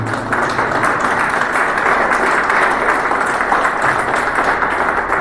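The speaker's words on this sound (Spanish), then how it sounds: "Dale un fuerte aplauso al Señor, mi hermano." A church congregation breaks into sustained applause, a dense, steady wash of many hands clapping together at full volume for the whole stretch, with no voices standing out.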